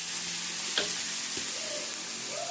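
Tomatoes frying in a pan for groundnut onion pachadi, a steady soft sizzle with a couple of brief stirring clinks.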